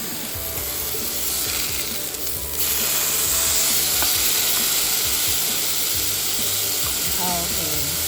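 Lion's mane mushroom cooking in a pan on medium heat makes a constant, dense sizzle and crackle up close, with a brief rattling clatter partway through and no talking.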